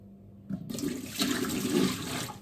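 Washing soda solution poured out of a limescaled kettle, a short burst of splashing, gushing liquid that starts abruptly, stays fairly loud and close, then tapers slightly, with no talking.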